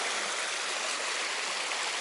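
Close, steady rushing of a small creek along the Foothills Trail, a dense even wash of water with no voices or breaks.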